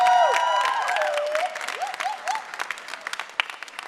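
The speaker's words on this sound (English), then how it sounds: "Howard, can we give them one last round of applause?" Applause from a crowd at an awards gala, loud at first and gradually thinning into scattered claps, with a few sung or sustained tones at the start.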